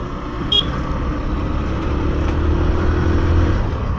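A Honda Livo 110cc motorcycle rides along a road, its engine droning steadily under strong wind rush while overtaking traffic, with a brief high squeak early on.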